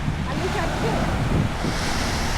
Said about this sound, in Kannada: ಸಮುದ್ರ ಯಾಕೆ ಘನಘೋರವಾಗಿರುತ್ತೆ ಅಂದರೆ ಈಗ ಗೊತ್ತಾಗುತ್ತೆ ಸೌಂಡ್ ನೋಡು